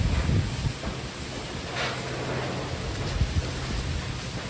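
A sudden, strong wind storm blows as a steady, loud broadband rush with slight gusting swells throughout, and no voices are heard.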